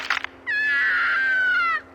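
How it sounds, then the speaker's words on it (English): Grand Theft Auto IV ringtone of an old woman breaking her hip: a short burst of noise, then a single loud, wavering cry held for over a second that trails off, alone. "purchase the old woman breaking her hip ringtone"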